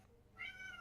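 A very vocal cat gives a single faint drawn-out meow over quiet room hum.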